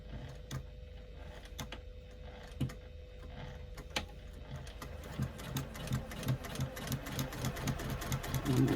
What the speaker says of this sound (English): now I'm going to stitch along the bottom line